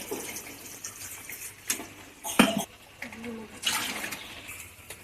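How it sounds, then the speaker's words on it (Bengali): Boiled soybeans rinsed with water in a kitchen: soft splashing and trickling with scattered clinks of a bowl or utensils against metal, a few sharper bursts of running water, quiet and close. "নিয়ে একটু জল দিয়ে ধুয়ে নেব"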